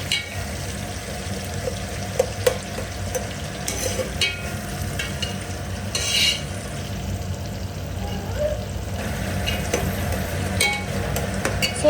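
Onions, curry leaves, green chillies and carrot sizzle in a pan while a spoon stirs and scrapes them, a continuous close frying hiss with occasional clinks and faint background voice.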